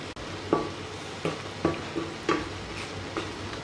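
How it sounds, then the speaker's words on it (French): Mushrooms are stirred into a chicken masala in a pan: rhythmic scraping strokes of a utensil, about six in a row, over a low steady sizzle, close and fairly loud. "On remue."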